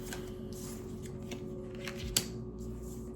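Tarot cards being drawn from a deck and shuffled, a soft papery riffle and flick, faint and close over a steady background hum, no talk.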